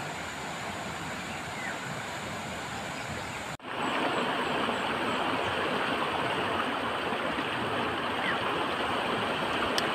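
Clear river flowing over rocks in the Philippine countryside, a steady broadband rush of water that jumps louder after an abrupt cut partway through, continuous and close with no voices.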